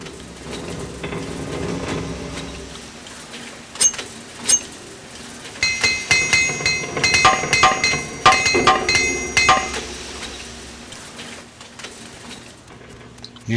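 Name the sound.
repair hammer clinking in Morrowind video game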